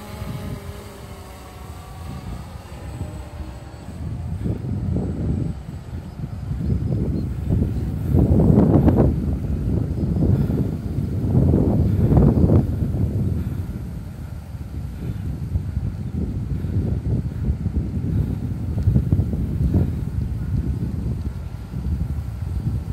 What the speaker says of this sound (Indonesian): Drone-nya sampai miring karena anginnya keras sekali ya.